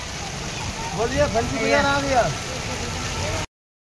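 Rain falls over a covered market, a steady broadband hiss that holds evenly for the whole clip while a voice talks over it in the middle.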